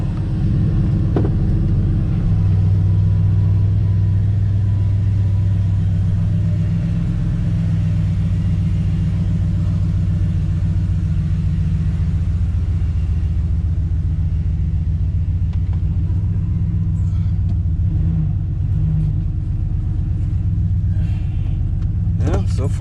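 A 1997 Ford F350 pickup on a road test after a caliper repair gives a continuous low rumble of engine and road noise from inside the cab, with occasional faint knocks and rattles.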